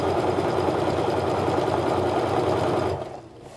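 A sewing machine stitches quilt pieces together in a fast, steady, rhythmic whir close by before it stops near the end, leaving quiet room tone.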